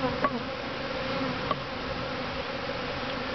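A steady, close swarm of bees buzzing continuously, with a couple of brief sharper spikes.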